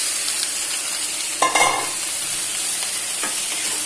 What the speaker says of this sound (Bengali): সব দিয়ে কষিয়ে দেন সবজিটা দিয়ে দিচ্ছি